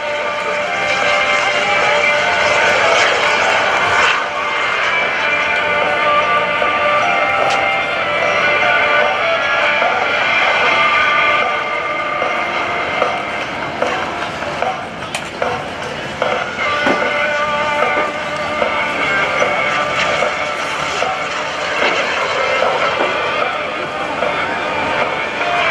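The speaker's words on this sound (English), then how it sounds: "Bob Carlton and the Super Salto jet-powered sailplane." A Super Salto jet-powered sailplane flown by Bob Carlton at the 2014 NAS Oceana airshow gives a loud, steady, rushing jet roar that holds for the whole stretch, with only slight swells in level.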